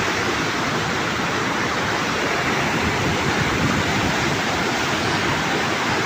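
Loud, steady rush of water flowing under a large bridge near a waterfall in Chandgad, a dense continuous roar without pause from start to finish.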